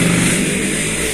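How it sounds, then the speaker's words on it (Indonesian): A motorcycle engine roars loudly outside, a close, noisy rush of sound filling the whole brief moment. "Kayak ada suara motor guys"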